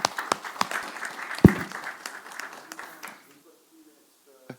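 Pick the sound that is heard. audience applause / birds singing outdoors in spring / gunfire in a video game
audience applause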